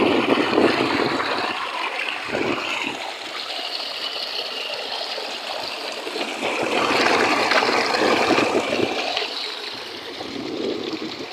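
Water from a borewell column pipe, lifted by a motor from 300 feet, pours down in a steady splashing gush that swells and eases a little over several seconds.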